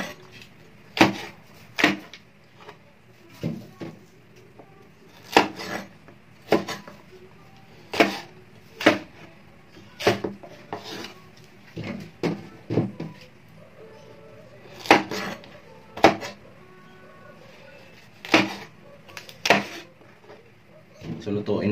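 A dull kitchen knife chops vegetables, okra among them, on a board, making sharp knocks roughly every second over a quiet room, with a soft voice faintly present at times.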